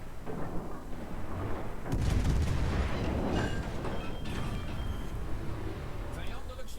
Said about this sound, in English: with the AP, it's a really good salvo